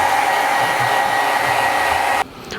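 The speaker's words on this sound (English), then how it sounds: "I don't have a heat gun, so I brought my hair dryer." A hair dryer blows with a steady, loud whooshing hum, then drops to a quieter setting near the end.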